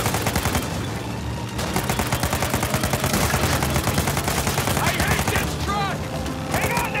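Continuous rapid automatic gunfire with unlimited ammo in Uncharted 4, a dense close rattle of shots running almost nonstop with brief pauses and some clinking debris.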